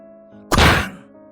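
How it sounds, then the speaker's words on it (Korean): One heavy thud of a bedroom door being kicked and banged in a horror radio drama, sharp and loud, decaying over a low sustained tone. "녀석은 정말 계속 방문을 쳐댔고 결국엔 문에 매달아놨던 달력이 떨어졌다"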